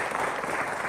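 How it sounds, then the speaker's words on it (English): Audience applauding the chairman at a talk on European interest in Buddhism, a short burst of full, even clapping. "Could you please give round of applause to Chairman?"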